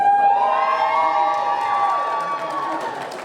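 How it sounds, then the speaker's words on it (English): An audience cheering for a pair of dancers at a dinner dance performance, with loud sustained whoops and high-pitched shouts and whistles from a nearby cheering section that gradually ease off. "Cheering section over here, I like it."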